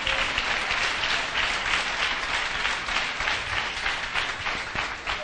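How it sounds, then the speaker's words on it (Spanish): A church congregation breaks into sustained, dense applause that holds steady throughout, with a faint murmur of voices underneath. "Denle un aplauso al Señor."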